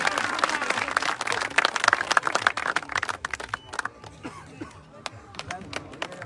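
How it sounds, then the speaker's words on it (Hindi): An outdoor crowd at a political gathering in Manota, Khetri, claps for a former MLA: a thick burst of applause that thins into sparse, scattered claps, with crowd voices and a speaker mixed in. "जोरदार तालियां हजारी लाल जी पूर्व विधायक के लिए"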